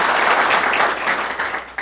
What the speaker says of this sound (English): I normally don't get an applause like that